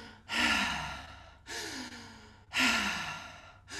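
Three deep open-mouthed breaths during a guided meditation, each a long airy rush with a slight rasp at the start, close to the microphone and evenly spaced, no talking.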